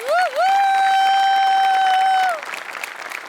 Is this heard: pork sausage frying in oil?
no